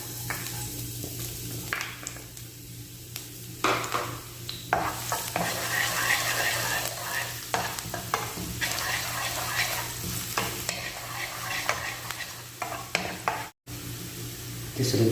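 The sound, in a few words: garlic sautéing in oil in a pan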